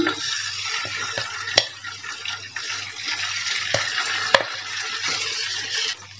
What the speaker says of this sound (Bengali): সম্পূর্ণ বেরেস্তা উঠিয়ে নেওয়ার পর ওই একই তেলে এখন আমি চিকেনগুলো ভেজে নেব।